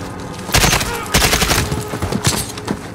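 Call of Duty Modern Warfare gunfire rips out in loud, close bursts of rapid automatic shots, with a few shorter volleys near the end and game effects underneath.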